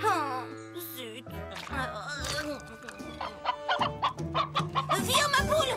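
A hen clucks among cartoon background music in a My Little Pony scene, with short repeated clucks and squawks over tonal musical notes, fairly close and clear.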